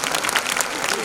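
A brief burst of loud, dense audience clapping at a silver jubilee celebration show, filling the whole second with no pauses.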